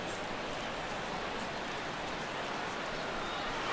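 Steady broadband hiss of rain falling at a baseball game, constant and moderately loud with no distinct drops, ending in a sharp click at the very end.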